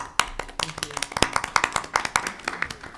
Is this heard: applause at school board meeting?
yes